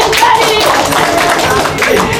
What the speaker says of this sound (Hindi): एबे ताली